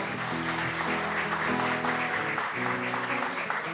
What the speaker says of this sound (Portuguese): Vamos aplaudir, gente?